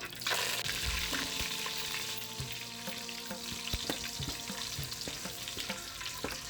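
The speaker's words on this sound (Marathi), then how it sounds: "कढीपत्ता पण एकदम खुसखुशीत करून घ्यायचा" Curry leaves crackling in hot oil, a dense loud sizzle with sharp spitting pops throughout, close and with no one speaking.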